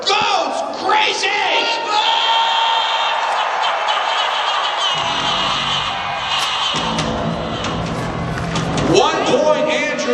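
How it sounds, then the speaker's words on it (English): Crowd cheering wildly at a jousting match at the PNE fair in 2023, loud shouts and whoops rising over a broad roar while an announcer's voice carries through. "And the crowd goes crazy."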